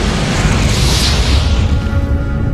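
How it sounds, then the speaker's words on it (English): A supernova explosion sound effect rolls out as a loud, sustained, deep rumbling roar that stays steady throughout and thins slightly at the top end as it fades. "they blew up in a tremendous explosion called a supernova"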